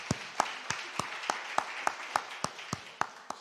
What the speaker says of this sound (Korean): 우리 하나님께 영광 박수 올리세요.